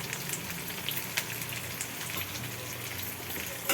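Green chilli and asafoetida frying in hot oil as a tadka for dal, with a steady, close crackling sizzle and scattered pops throughout, no voices.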